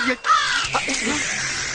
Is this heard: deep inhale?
no